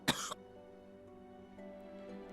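A character in the Hakuoki video game, Okita, gives a short harsh cough near the start, a sharp burst that fades into a steady soft hum of background music.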